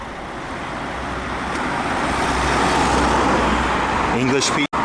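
Cars drive past on a road in Belfast, a continuous loud traffic roar that builds slightly and holds, ending with an abrupt cut and a brief clatter.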